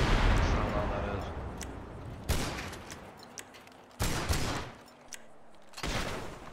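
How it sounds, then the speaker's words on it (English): Explosions from a FiveM video game sound pack boom out in three sharp bursts, each decaying into a rumbling tail, with a loud blast fading at the start and game ambience between. "Listen to this explosion."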